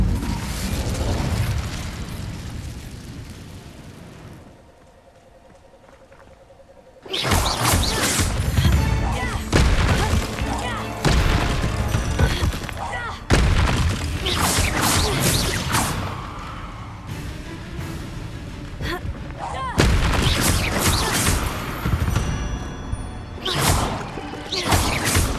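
Incendio fire spell blasts in the video game Hogwarts Legacy, a string of loud bursting whooshes and booms after a short quiet lull, arriving in repeated surges.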